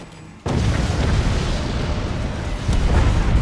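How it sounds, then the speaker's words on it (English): Video game explosions in Forts with a VFX explosions mod, at sea: a sudden loud blast opens into a dense, sustained roaring rumble that swells slightly toward the end. "It's VFX explosions, and in this mod, you know, the explosions get prettier, but not much else"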